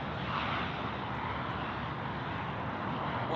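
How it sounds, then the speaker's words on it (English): A Qantas airliner landing on Sydney Airport's runway 34 left gives a steady, fairly faint broadband jet engine roar that holds even throughout, with no voices. "We've got our Qantas 12 just coming in now on the main runway 34 left."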